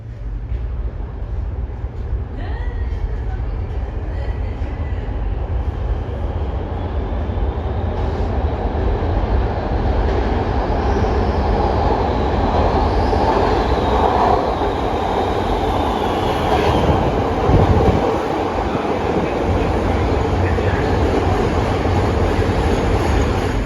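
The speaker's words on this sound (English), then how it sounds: "that train is at Monroe right now" A Chicago Blue Line subway train rumbles past with a deep, continuous roar, faint metallic squeals rising and falling above it, alone without talk.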